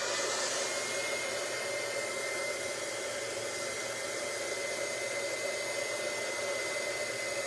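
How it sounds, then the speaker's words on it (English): Heat gun blowing hot air to dry mixed-media craft materials, a steady broadband whoosh that runs unbroken and fairly close throughout, with no voices. "heat gun."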